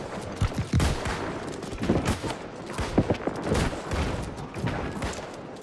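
Rapid scattered musket gunfire in a multiplayer video battle, many sharp overlapping shots at varying distances crackling steadily throughout, like a volley fight.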